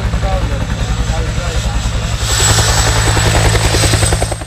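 Helicopter lifting off on Sandø in the Faroe Islands after delivering a Faroese pony, a steady, close, throbbing rotor drone that swells louder partway through as it climbs.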